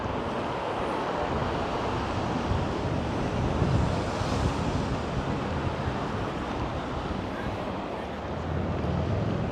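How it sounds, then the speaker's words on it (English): Strong wind roars and buffets the microphone on a Vancouver city walk, a constant rushing noise that swells and eases slightly over about ten seconds, with no one speaking. "It is really windy out today."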